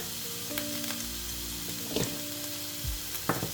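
Onion and pepper fry in a little oil, giving a steady close sizzle with occasional soft pops and knocks of a utensil, no voices.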